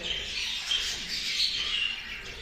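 Baby birds in a cage call for food while being fed, giving a dense, continuous high-pitched chirping chorus that stays close and steady throughout.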